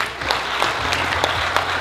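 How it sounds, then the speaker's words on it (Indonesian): An audience at a CEO Mastermind event breaks into brief applause, a full, even burst of many hands clapping that carries on through the short moment. "tepuk tangan untuk kita semua"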